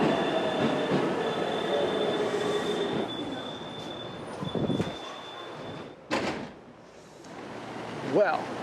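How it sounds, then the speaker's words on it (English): A JR train pulls out of Kawachi Iwafune Station with rumbling wheels and a long high squeal, the rolling noise fading away, followed by station clatter and a brief voice. "This is the JR train that's leaving."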